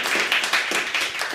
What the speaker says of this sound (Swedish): Ännu en applåd till Banne.